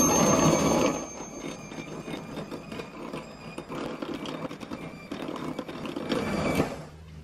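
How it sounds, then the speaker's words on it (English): Electric hand whisk beating egg yolks with sugar in a bowl for a ras malai tres leches cake, a continuous close mechanical whir with rattling against the bowl, ending abruptly as the mixer stops. "we're going to add our remaining sugar to the egg yolks, and we're going to whisk this till it's nice and pale"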